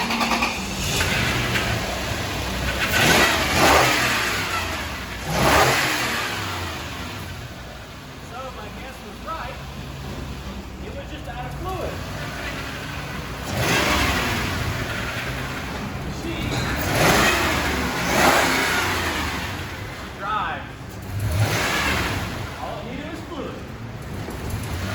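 A Toyota 4Runner engine running steadily with several revving surges, heard close and loud throughout, with people talking over it.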